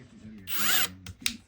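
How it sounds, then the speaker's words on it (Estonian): Power drill pre-drilling a hole in wood, a short close whirring burst that rises and falls, followed by a brief second spin and small clicks. "Sellepärast on alati mõistlik auk ette puurida"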